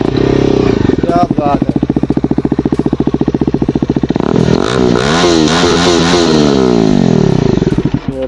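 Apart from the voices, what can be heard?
Bajaj Dominar 250 motorcycle engine revving loudly in neutral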